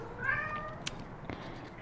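A house cat gives a single meow up close, brief and moderately clear, in a quiet indoor room during a bead shop unboxing.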